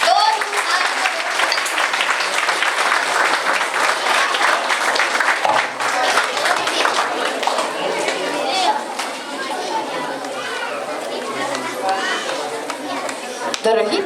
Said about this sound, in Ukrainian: Плескайте їм, будь ласка.